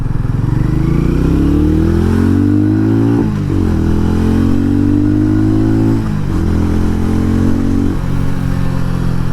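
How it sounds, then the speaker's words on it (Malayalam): Hero Mavrick 440 motorcycle accelerating hard on a ride, its exhaust note rising in pitch through three gear changes, each marked by a brief dip before climbing again, loud and close with no talk. "അതേപോലെ എക്സോസ്റ്റ് നോട്ട് നിങ്ങൾ ശ്രദ്ധിച്ചിട്ടുണ്ടാവും"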